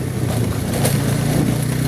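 A motorcycle engine runs steadily nearby, a buzzing low hum with a fairly constant pitch and no talk over it.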